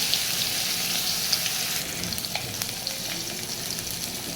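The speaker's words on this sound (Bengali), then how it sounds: "মাছটা দিয়ে দিচ্ছি এবং মাছটা দেওয়ার পরে এইভাবে বেশ কিছুক্ষণ আমি ফ্রাই হতে দেব" Fish fries in mustard oil in a pan over medium-low heat, giving a dense, continuous close sizzle with crackling spits and faint scraping, no talking.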